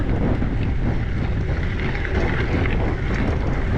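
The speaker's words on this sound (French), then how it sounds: "le vent c'est vraiment invité" Strong wind roars steadily across the microphone while riding a gravel bike race near Millau, a constant heavy buffeting rumble with no pauses, loud and close throughout.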